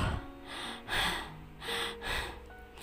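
A man snores in a quiet room, giving several rhythmic, breathy snorts in close succession with short pauses between them, heard close and alone.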